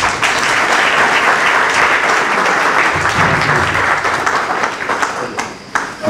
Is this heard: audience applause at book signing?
yes